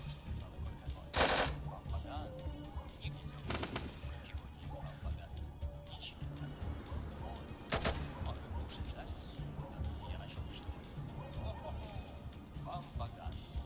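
Short machine-gun bursts in the post-apocalyptic video game ATOM RPG Trudograd: three sharp, loud bursts near 1, 3.5 and 8 seconds over quiet game ambience, with someone talking between them.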